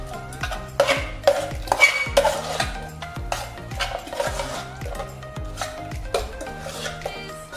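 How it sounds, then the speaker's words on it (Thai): Pork larb being stirred in a pan after a spoonful of pickled garlic juice goes in, with repeated scraping and clinking of a utensil against the cookware in a steady, busy rhythm, close and fairly loud. "แล้วเราก็คนนะครับ"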